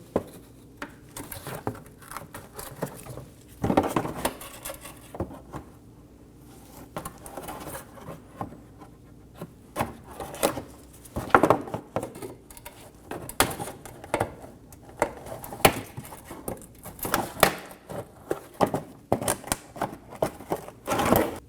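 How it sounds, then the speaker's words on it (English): Plastic shield clips on a 2008-2015 Scion xB are pried loose with a trim tool in a quiet garage, giving a scattered series of light clicks and snaps spread across the stretch. "Using a trim tool, we're going to remove the 4 clips for our shield."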